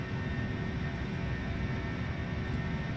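Exterior view of an Airbus A320 in a flight simulator brings a continuous, steady roar of jet engines, even and unchanging with a broad rushing hiss and no talk.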